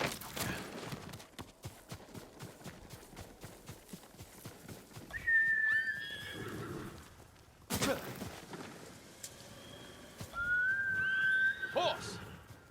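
A horse in Ghost of Tsushima, with hoof clip-clop and movement sounds and then a high whistle-like whinny, followed by a second drawn-out neigh later on, under a quiet ambient background.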